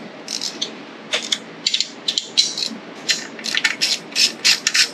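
Hand tools working on the valve cover of a Tilson engine on a Go Power Sports Rascal mini bike, giving close, irregular ratcheting clicks and metallic rattles in short bursts with pauses between, no talking.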